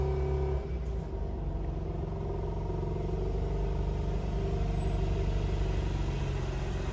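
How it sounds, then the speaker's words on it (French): A BMW M3 rolls in with a steady, low engine rumble that holds at an even level from start to finish, with no talking. "Il y a la M3 qui rentre."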